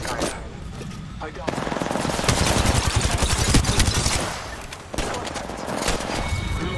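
Rapid automatic gunfire from Apex Legends, a dense, loud stream of shots that swells in the middle, pauses briefly near five seconds, then resumes, with faint voices underneath.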